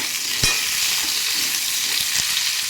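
Potatoes, carrots and other cut mixed vegetables frying in a pan, a loud continuous hiss of oil with a few dull knocks of a spoon stirring them, close up.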